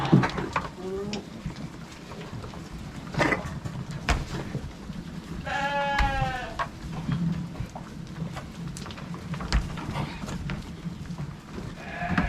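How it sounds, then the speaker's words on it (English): Goats at breakfast bleat in short wavering calls among duller knocks from headbutting, with a person talking quietly nearby and rain falling softly in the background. "Just your regular breakfast time goat fight, I guess. Little headbutting challenge going on."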